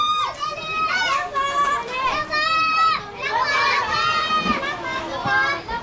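Children shout and chatter while playing in a farm resort pool, many high excited voices overlapping continuously at close range, with splashy commotion and occasional shrieks.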